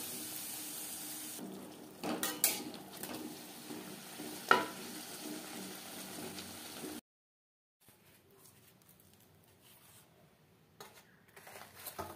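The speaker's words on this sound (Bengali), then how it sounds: "বেশ খানিকটা রিফাইন্ড অয়েল গরম করে নিয়েছি।" Food fries in a good amount of heated refined oil for a potato and pea curry, a faint sizzle with stirring and a few pan clatters, then a sudden drop to near silence and soft, sparse kitchen sounds.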